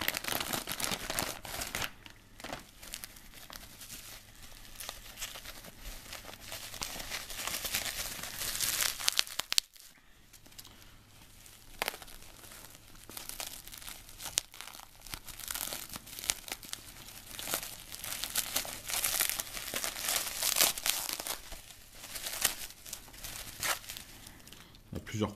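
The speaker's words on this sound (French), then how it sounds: "Il y a plusieurs couches, beaucoup de scotch." A heavily taped package holding an official LG Optimus G E975 bumper case is torn open, with tape crinkling, crumpling and ripping in repeated bursts near the mic and a brief pause midway.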